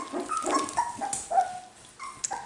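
Cockapoo puppies whimper and yip at feeding time, a string of thin, high whines and short squeaky cries, close and fairly soft, with no talking.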